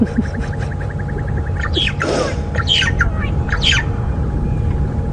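A starling gives loud, harsh squawks and chattering calls in quick bursts during an evening safari drive at Djuma Game Reserve, with a low rumble underneath.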